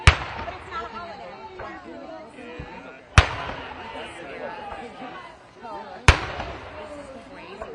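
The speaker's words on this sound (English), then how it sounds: "Sounds like cannon. But it's not a holiday." Three loud, sharp cannon-like booms go off roughly three seconds apart at a protest outside the White House, each ringing out over ongoing crowd chatter and voices.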